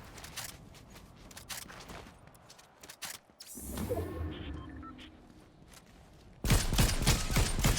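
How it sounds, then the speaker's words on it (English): Enemy gunfire in Fortnite Zero Build, bursts of rapid shots with mechanical clatter and whooshes, ending in a loud dense volley near the close, no talk. "finally this guy shoots at us"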